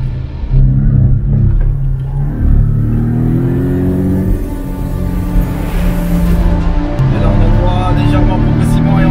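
A Porsche 718 Cayman S accelerating hard on a race circuit in Dubai, its engine rising through the revs with clear gear-change breaks. A loud, close in-cabin roar continues throughout while someone talks over it.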